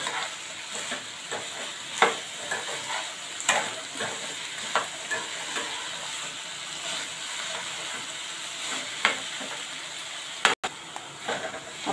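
Fried noodles and Chinese bhel are tossed together in a pan, with a soft sizzling hiss under repeated scraping and stirring strokes that land every second or so.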